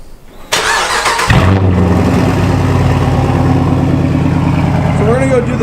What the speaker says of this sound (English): we're gonna go do the drone sound right now inside the car at certain speeds